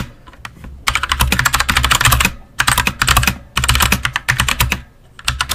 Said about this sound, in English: I just have a very loud keyboard.